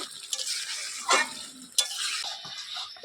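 Country chicken pieces stirred and browned in a pan with a little oil, giving a soft steady sizzle with scraping stir strokes and a couple of sharper utensil knocks against the pan, close and fairly quiet.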